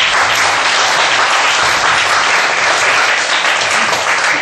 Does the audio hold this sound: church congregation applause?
yes